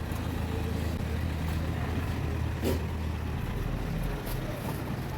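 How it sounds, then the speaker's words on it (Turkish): A car parks close by on a street, its engine a steady low rumble throughout with no talking. "Bir saniye şu araba park etsin. Çok ses yapıyor."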